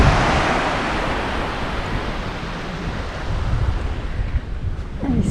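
Waves wash continuously onto a wide, white Queensland beach as the tide goes out, a steady broadband roar mixed with wind noise on the microphone.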